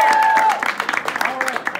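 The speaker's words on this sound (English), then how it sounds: "Give them a round of applause" An audience applauds at a high-school improv competition, with brief scattered clapping and cheering that follows a voice and thins out over under two seconds.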